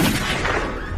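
A burst of gunfire, loud and dense, crackling without a break through one second with no voices over it.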